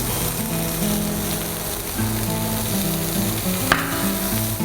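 Whole wheat burger patties fry in a pan with a steady, loud sizzle that holds evenly, joined by faint tonal hum underneath and one brief clink near the end.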